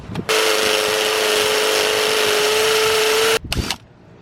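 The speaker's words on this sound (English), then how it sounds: "This is where I was trying with my regular drill." A power drill whirs at a steady high pitch for about three seconds, then stops abruptly, followed by a short rattling burst.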